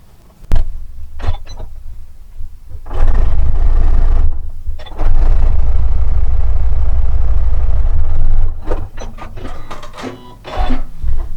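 A sewing machine stitches red and white quilt stripes together. Its motor hums in loud, close runs, broken by short pauses and faint clicks of fabric handling.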